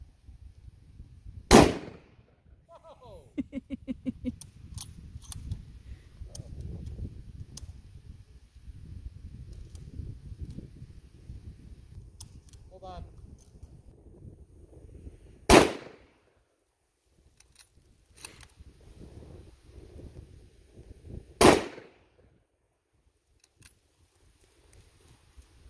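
Three sharp, loud gunshots ring out, widely spaced, aimed at a dead tree outdoors, with quieter rustling and handling noise between them.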